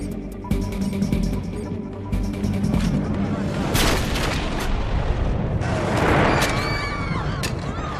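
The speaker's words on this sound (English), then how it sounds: "Explosion, southwest corner." A booming blast in a television drama firefight amid dense, chaotic noise, with sharp bangs and a rumbling roar layered over a busy, loud background.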